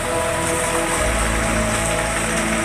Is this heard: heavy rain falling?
yes